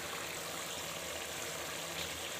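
Water poured into a pot of chicken white pulao with spices, a steady close rushing stream that stays even and unbroken throughout.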